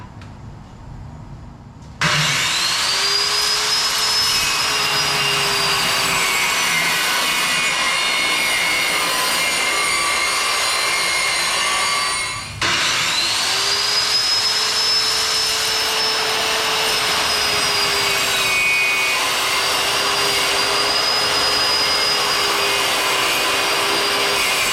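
A band saw cuts wood on a crosscut sled, a loud, steady whining roar that starts abruptly, runs continuously, and briefly dips midway before resuming at full strength.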